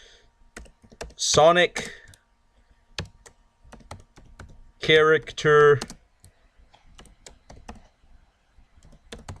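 Rapid clicks of a computer keyboard being typed on run steadily through the clip, close and fairly crisp, with short bursts of a person talking over them.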